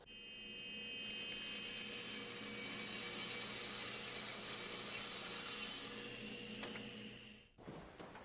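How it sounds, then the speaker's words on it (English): Saw cutting a board tilted slightly off 90 degrees for stair building, a loud steady whine under load for several seconds, fading as the cut finishes, then a clunk; close and alone. "Now when I run it through the saw"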